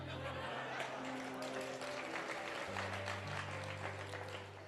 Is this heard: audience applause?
yes